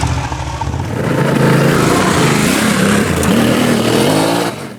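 A Yamaha Ténéré 700 motorcycle with its CP2 twin engine accelerates hard on a dirt trail, its engine note rising and falling through loud revs close by, then cutting off abruptly at the end.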